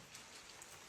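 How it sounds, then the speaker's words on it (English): Heavy rain beginning to fall outdoors, a faint, dense patter of drops on surfaces forming a continuous hiss. "the rain came early and it was coming down hard"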